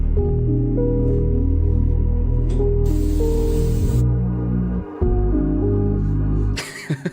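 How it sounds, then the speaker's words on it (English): A hairspray can hisses in one sharp burst lasting about a second, heard over steady background music that cuts off near the end. "I spray my hair with hairspray."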